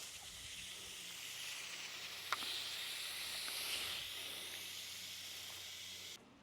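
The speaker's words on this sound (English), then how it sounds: "I'm gonna rinse this off" Water spray rinses a car in a steady, even hiss that runs almost unbroken before cutting off abruptly near the end.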